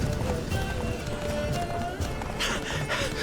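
A horse gallops in The Witcher 3 video game, with steady loud hoofbeats under a dense bed of game sound effects and ambience.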